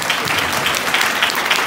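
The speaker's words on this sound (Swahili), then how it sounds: "Patia Bwana makofi mazuri" A church congregation at a mission gathering bursts into dense, loud sustained applause, many hands clapping together at once, filling the space evenly from start to end.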